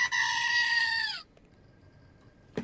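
A goat lets out one long, loud, wavering bleat lasting over a second, close up and alone, followed by quiet background noise and a brief sharp sound at the end.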